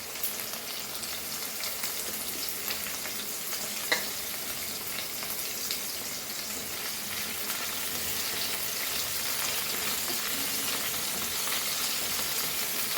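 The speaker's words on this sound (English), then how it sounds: "Just saute it for a few minutes." Curry leaves and a pinch of asafoetida sauté in oil with a dense, even hiss close by. One sharp click is heard early on, and the sizzle grows slightly fuller toward the end.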